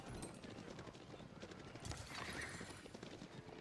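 Horse archers in the Age of Empires IV game gallop in a dense clatter of hooves with a whinny mixed in, continuous battle noise at a modest level.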